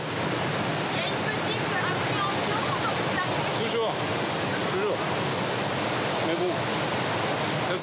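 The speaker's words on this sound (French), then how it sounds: "régulièrement glisser sur cette vague artificielle, créée par l'irrégularité du lit de la rivière" Rushing river water pours steadily over an artificial standing wave formed by the uneven riverbed in Bavaria, a loud, continuous broadband roar with no breaks.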